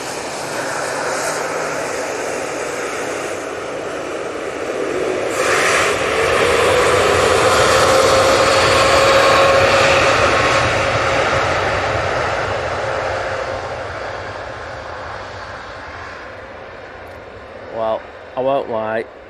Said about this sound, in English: this TUI is now coming on and off to Glasgow on a positioning flight